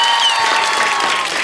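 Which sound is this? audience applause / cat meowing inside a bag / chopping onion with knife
audience applause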